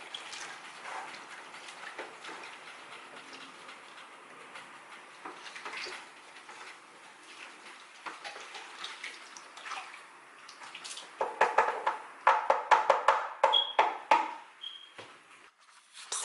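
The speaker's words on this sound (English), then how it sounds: "And then with our sterilised masher, we're just going to stir it all together." A sterilised masher stirs homemade kiwi wine mixture, giving wet sloshing and swishing, quiet at first and then rising into louder, rapid splashes and clinks near the end.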